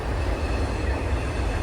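A train rolls past a campground near Boiling Springs on the Appalachian Trail, a loud, steady, close rumble of railcars with a dense low roar filling the whole moment and no voices.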